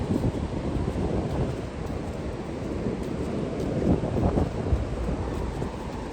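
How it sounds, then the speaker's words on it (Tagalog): Big ocean waves surge and break on Siargao island with strong wind buffeting the microphone, a continuous loud roar of surf and rushing air with no voices. "Grabe alon."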